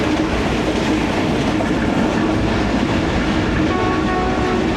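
The 28 Down passenger train at Sangla Hill Junction, Pakistan, heard close and loud as a continuous rolling rumble of wheels on track, with a faint horn tone entering near the end.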